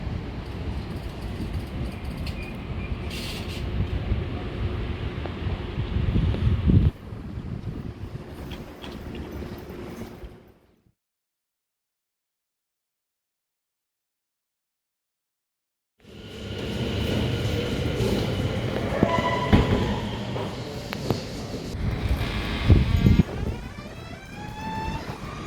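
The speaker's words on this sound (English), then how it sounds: "here comes my train right now" A train rumbles and rolls into a station with rattling, clanking wheels, then the sound cuts out to silence before returning with squealing brakes and hissing.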